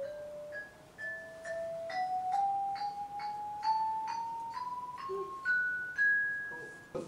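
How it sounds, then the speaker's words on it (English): Homemade instrument built from an adapted aluminum lawn chair with tubing cut to length and bamboo resonators, struck one tube at a time in a rising scale of bright ringing metallic tones, soft and evenly spaced. "So this is the sound of the adapted lawn chair."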